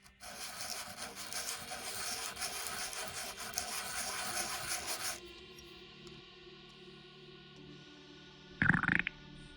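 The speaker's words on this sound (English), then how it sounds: "Each end of the bracket has 6 edges to file." Metal bracket edges being filed by hand for an open-frame PC build, a close, dry rasping stroke repeated for about five seconds, then a quieter stretch and a brief sharp scrape near the end.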